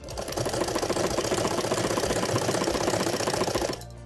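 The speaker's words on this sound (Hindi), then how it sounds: "पिन निकालते जाइए प्लीट्स में से और इस तरह से रखिए और सिलाई करते जाइए।" Sewing machine stitching the pleats of a saree being made into a seat cover, running at a steady fast mechanical clatter for nearly four seconds before stopping, close and alone with no talk.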